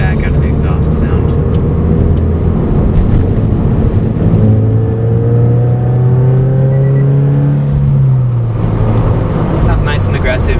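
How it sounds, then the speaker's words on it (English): A car engine and Nameless Performance axle-back exhaust roar at full throttle from inside the cabin, pitch climbing steadily, then dropping as the gear shifts and rising again. "You get extra feedback out of the exhaust sound."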